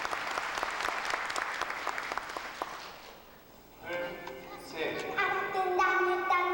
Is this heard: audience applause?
yes